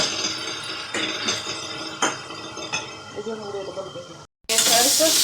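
Chopped tomatoes with salt sizzling and softening in a pan for baingan bharta, a steady moderate frying hiss with a few stirring scrapes and clinks, briefly cutting out before the sizzle resumes louder.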